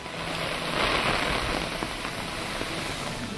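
Dense hail and rain beat down steadily during a half-hour hailstorm around Uthukottai, a close continuous hiss and patter with faint scattered impacts.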